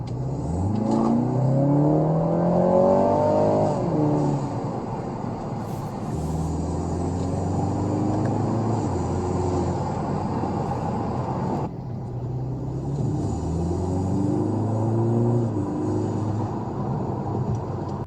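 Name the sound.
BMW G20 330i engine and exhaust with transmission tune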